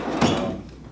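A tool cabinet drawer in a garage workshop slides shut with a single short thud, close and fairly loud, then fades, with no talking.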